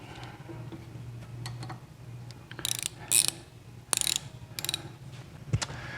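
A ratchet clicking in short bursts while tightening a nut during brake service on a 1973 VW Super Beetle, with scattered sharp metallic ticks over quiet shop background.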